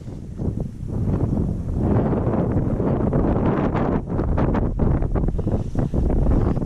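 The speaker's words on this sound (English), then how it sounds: "So it's a bit windy" Strong gusty wind buffets the microphone on a mountain summit in Tasmania's Ben Lomond area, a loud continuous roar with rumbling surges and no speech.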